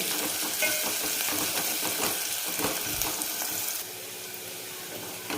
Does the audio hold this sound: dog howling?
no